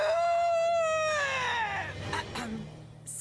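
A human voice imitates an ox calling its companions, a long loud drawn-out wavering call that bends downward and fades into rough breathy noise.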